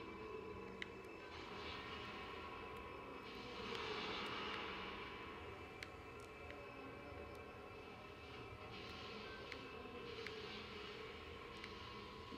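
A snowmobile engine in a Lego Star Wars video game hums in a faint, steady drone with a few brief surges and small clicks of game effects.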